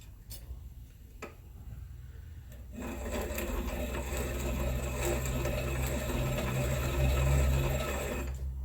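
A hand file rasps steadily against GSX-R 1000 piston rings to open up their end gaps, a close, continuous scraping texture that grows louder and denser after the first few seconds, with no talking over it.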